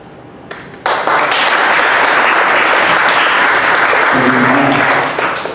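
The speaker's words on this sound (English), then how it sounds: "Let's give yourselves another round of applause." A conference audience breaks into loud, sustained applause after a brief quiet moment, dense clapping holding steady for several seconds before tapering slightly at the end.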